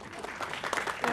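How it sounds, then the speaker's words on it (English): Audience at a film festival master class breaking into a brief spatter of clapping, fairly faint and mixed with a voice speaking. "Don't be shy, clap."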